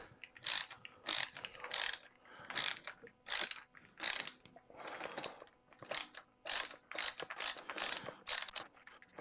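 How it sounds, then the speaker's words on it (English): Screwdriver backing out the screws of a Dyson V11 battery pack, a string of quick ratcheting clicks in short repeated bursts, close and fairly quiet with no talking. "Keep rotating the screw out."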